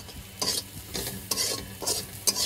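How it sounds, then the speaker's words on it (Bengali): Prawn heads fry in oil, a low sizzle punctuated by repeated close stirring scrapes of a spatula against the pan, coming in quick uneven strokes. "প্রথমে এই যে চিংড়ি মাছের মাথা ভেজে নিচ্ছি"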